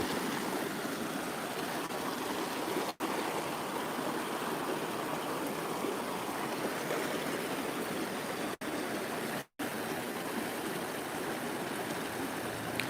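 Clear creek water runs through woods during Alabama deer season, a steady, full rushing wash that holds at an even level from start to finish, broken only by a couple of brief dropouts.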